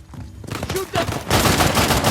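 Rapid bursts of gunfire crackle in the Uncharted: The Lost Legacy video game, loud and close, building from scattered shots to a dense sustained fusillade, with voices shouting over it.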